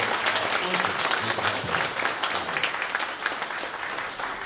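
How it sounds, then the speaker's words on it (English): An audience at the Miss Heilala 2026 pageant gives sponsors a big round of applause, a dense, steady wash of clapping from a crowd that holds evenly throughout. "Please, can we have a big round of applause?"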